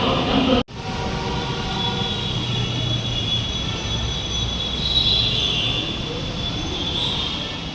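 A Namo Bharat rapid rail train runs steadily on its rails, a continuous close rumble of wheels with a high metallic whine and faint squeal held throughout, broken by one brief dropout near the start.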